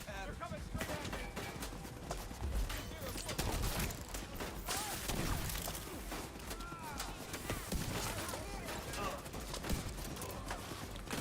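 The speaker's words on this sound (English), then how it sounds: "The turret that's shooting from a mile away." Distant turret firing in The Division 2 amid dense combat, rapid bursts of gunfire crackling continuously under battle noise and voices.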